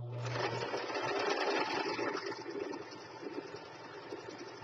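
A sewing machine stitches a lace pillow with a fast, steady whirring hum, quiet and close, running continuously for a few seconds.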